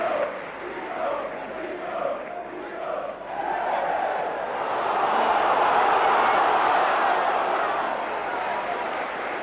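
Rugby league crowd at a Leeds v Widnes match cheering after a kick: a broad, distant roar that swells about halfway through and holds loud to the end.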